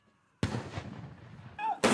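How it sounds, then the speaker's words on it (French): Ceremonial cannon salute fired in Hyde Park, London, one sharp, loud report followed by a decaying echo, then a second blast at the end, with a brief voice between them. "41 coups de canon à Hyde Park"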